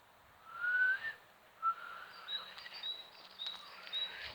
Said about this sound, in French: Oh, j'arrive plus à siffler. J'arrive à siffler une fois sur 10.